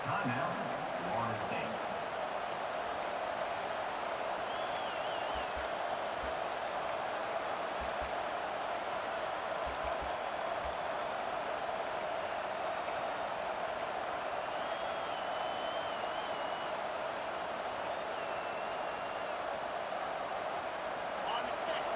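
Steady broad stadium crowd roar from the College Football 25 video game, a constant wash of many voices filling the whole stretch, with commentators talking over it.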